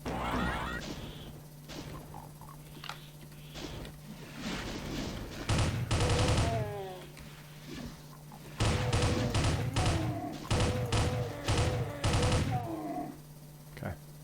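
Gunfire in the video game DOOM 2 comes in bursts of loud, close shots, some rapid and repeated, with monster growls and game effects, alongside a continuous hum.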